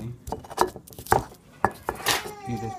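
Garlic cloves pounded in a stone molcajete: a run of sharp, hard knocks and grinding clinks, roughly a handful of uneven strikes close up, with a faint murmur of room noise between them.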